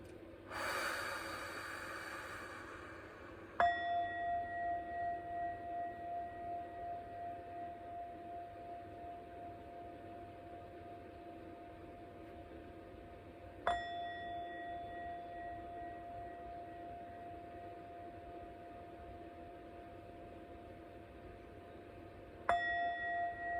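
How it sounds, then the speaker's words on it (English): A sound bowl is struck three times, each strike ringing out with a clear sustained tone that slowly fades with gentle pulsing, heard alone after a brief breathy noise at the start. "Right, 20 seconds of the sound bowl."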